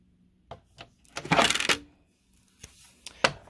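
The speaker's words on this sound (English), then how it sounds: "And the magic of the cut and emboss machine." A cut and emboss machine feeds stacked plates and an embossing folder through its rollers, giving a few light clicks followed by a short grinding rush and then more scattered taps.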